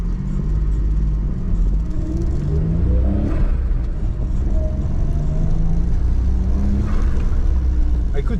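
A 1996 Suzuki Jimny driving in four-wheel drive, heard from inside as a loud, continuous engine rumble with a rising and falling whine throughout.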